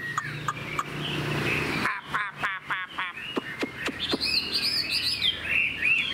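A purebred Chinese hwamei songbird sings loudly and close, with varied whistled phrases, rapid repeated chirps and warbling trills over a steady background hum.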